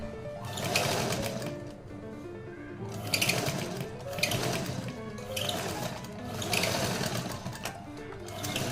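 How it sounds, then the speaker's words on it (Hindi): A sewing machine stitching two layers of lining for a double-zipper pouch, its needle motor running in steady loud bursts that rise and ease off in several runs, close and with no talk. "पहले इस तरह से हम इसे ये दोनों लाइनिंग को इस तरह से रखते हुए यहाँ से यहाँ तक सिल लेंगे।"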